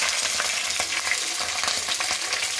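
Green chilies added to hot oil with ginger fry with a steady, dense sizzle and crackle, close and fairly loud, with faint stirring scrapes and no speech.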